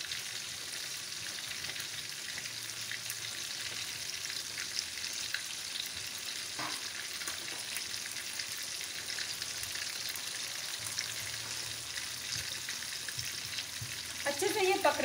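Beef chilli sauce with half a cup of added water sizzles in a pan over a high flame. The hiss is steady and bright throughout, with a few scraping stirs and a louder clatter near the end.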